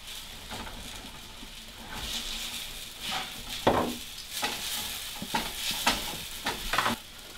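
Soy sauce, oil and cornstarch being stirred together for chow mein, a soft scraping and clinking of a utensil in a bowl, repeated in uneven strokes, close and fairly quiet.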